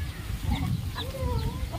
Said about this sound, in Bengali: তো ফাইনাল এখানে দেখতে পাচ্ছ মুরগি রয়েছে।